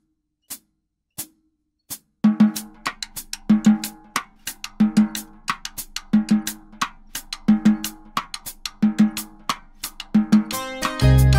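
Salsa groove on a drum kit with steady quarter notes on the hi-hat, crisp ticking strikes in an even pulse joined by a low repeating drum pattern, close and dry, ending in a louder final hit.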